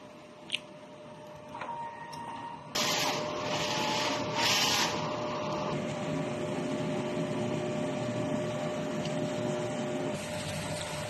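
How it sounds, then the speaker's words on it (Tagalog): DTF printer running its wiper cleaning cycle after a head clean and nozzle test, a mechanical whirring and rubbing motor sound with a few faint ticks before it, close and steady. "Punasan ng wiper pagkatapos mag-head clean. At nozzle test."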